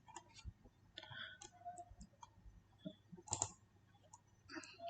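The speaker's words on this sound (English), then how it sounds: "Click on Save Changes." Quiet scattered clicks from a computer mouse and keyboard in a software settings screen, soft separate taps with gaps between them, faint and close.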